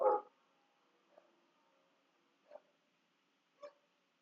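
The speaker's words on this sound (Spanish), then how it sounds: "hay un perro del vecino que normalmente no ladra y ahora no sé qué pasa" A neighbour's dog barks in a series of four short, separate barks, the first loudest and the rest fainter, spaced roughly a second apart against otherwise quiet surroundings with no talking.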